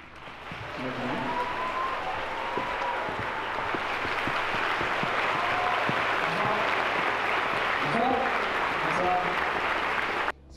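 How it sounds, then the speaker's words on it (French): At a documentary premiere about Chernobyl, an audience applauds MamyTwink with sustained, even clapping from a large room, some voices calling out over it, stopping abruptly at the end. "Premier applaudissement à Mamie Twink."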